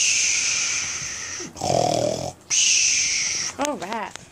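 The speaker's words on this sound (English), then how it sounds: "And a little snoring action." Raspy, rhythmic snoring breaths alternate between a hissy rasp and a lower rumbling snort, followed by a brief voiced whine at the end.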